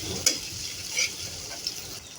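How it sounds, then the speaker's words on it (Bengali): Chopped onions fry in hot oil and are stirred in a pan, a steady soft sizzle with occasional scraping clicks of the spoon, fairly quiet and with no talk. "পেঁয়াজ কুচিটা দিয়ে দিব তেলের ভিতরে দিয়ে দিলাম এখন একটু নাড়াচাড়া করে বাদামি কালার করে ভেজে নিব"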